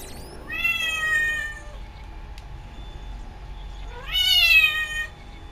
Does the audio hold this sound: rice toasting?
no